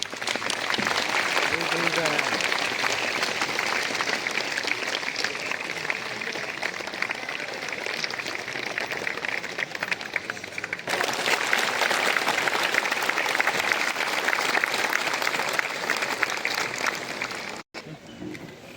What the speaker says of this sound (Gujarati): તાળીઓનો